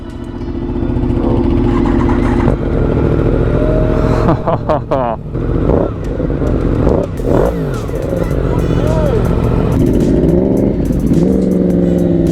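A Yamaha FZ10 motorcycle engine runs loud and close with a steady throaty idle, broken by several sharp revs that climb and fall, with voices talking over it.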